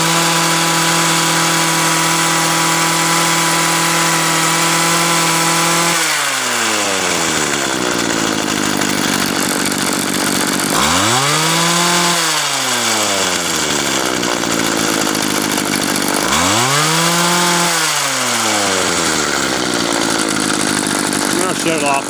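A gas-powered Weed Eater GHT225 hedge trimmer runs loud and close, idling steadily and then revving hard twice with rising and falling throttle sweeps, with speech faintly present.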